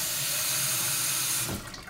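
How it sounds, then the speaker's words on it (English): Water runs steadily from a tap into a sink as a loud, even rushing hiss that cuts off near the end and fades to a softer trickle, with no talking. "Now, running water in a sink,"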